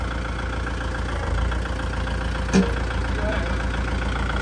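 A used Kubota 50 hp tractor idles steadily during a gear test, with a continuous close engine drone and one brief clunk partway through.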